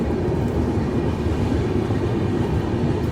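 Inside a moving Rajdhani Express near Jakhlaun station in India, the train gives off a loud, steady rumble and roar as it overtakes on the railway, with no voices over it.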